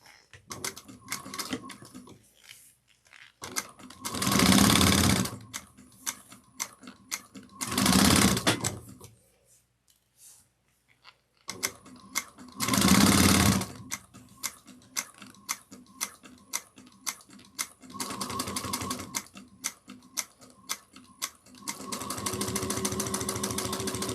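A sewing machine stitches a strap in several separate bursts, each a rapid mechanical whir lasting a second or two, with quiet handling pauses between them and a longer run at the end.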